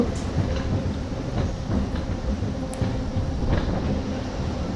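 The Narasapur MEMU Express, train 17269, rumbles steadily at Nidamanuru railway station, its wheels giving a continuous clatter with faint rhythmic clicks throughout, and no voices are heard.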